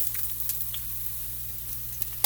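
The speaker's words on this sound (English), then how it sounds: "I am going to stir-fry some kale and onions" Kale and onions stir-frying in a hot pan give a steady, even sizzle with occasional faint stirring scrapes, and a sharper clatter right at the end; no voices.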